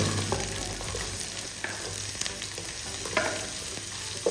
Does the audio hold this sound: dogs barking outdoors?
no